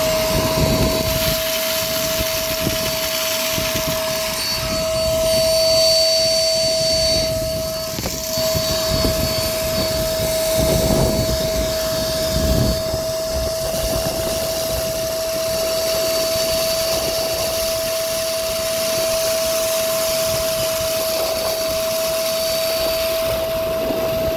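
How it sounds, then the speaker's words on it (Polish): A vacuum cleaner runs steadily inside the cab of a Fahr M 1200 combine harvester, a continuous droning whine with a strong sustained tone, near and loud, with small shifts in pitch as the nozzle moves. "majsterek siedzi w pilocie teraz odkurza"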